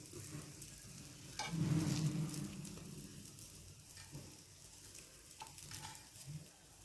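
An onion ring omelette fries quietly in a pan, giving a faint, steady sizzle with a few soft stirring and scraping touches.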